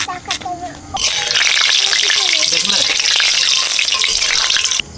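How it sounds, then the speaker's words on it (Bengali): Hot oil crackles and sizzles loudly and steadily in a pan set for frying fish, the bright hiss rising sharply after about a second of quieter kitchen sounds and a faint voice, then cutting off near the end. "মাছ ভাজবো তেল গরম হয়ে গেছে"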